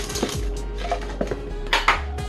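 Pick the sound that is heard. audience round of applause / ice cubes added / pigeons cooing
ice cubes added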